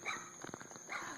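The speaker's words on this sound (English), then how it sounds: "That's a poodle barking." A poodle barks a quick cluster of sharp, fairly faint barks, heard from a distance over a steady background hum.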